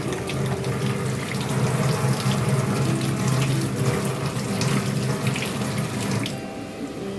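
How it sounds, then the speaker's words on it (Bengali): Steady stream of kitchen tap water running into a sink while hands are rinsed clean of chilli during cooking, a continuous close splashing rush that eases slightly near the end. "হাতটা একটু ধুয়ে নিই"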